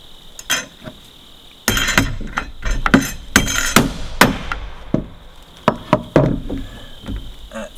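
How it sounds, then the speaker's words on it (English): A hammer drives nails through a small metal plate into a wooden gable-end truss for a tiny house, landing a series of sharp, close blows at an uneven pace, some quick and light, others heavy and ringing. "put on one of these small plates first, just to make it easier to nail in the bottom"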